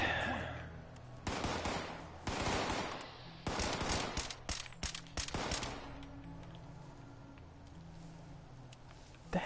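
Gunfire in Fallout 76, rapid bursts of close, loud shots in several clusters, fading to a quieter tail with one last pop at the end.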